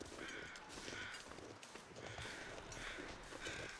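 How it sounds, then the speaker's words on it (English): Crows caw in the video game The Long Dark, with repeated harsh calls in rhythmic bursts over a steady wind-like background, faint and distant, with no speech. "Traveling crows."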